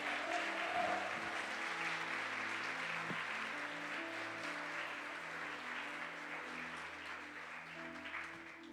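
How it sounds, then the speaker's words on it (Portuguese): Church congregation applauding during a worship service, a broad steady patter of many hands held over sustained keyboard chords, gradually easing in loudness. "Aplaude e engrandeça o nome do Senhor."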